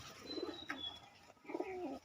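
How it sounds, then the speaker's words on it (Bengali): A male red-vein Madras pigeon coos close by in two soft, throaty bursts separated by a short pause, with faint chirps in the background. "নিয়ে নিয়েছি প্রথম নর পায়রা"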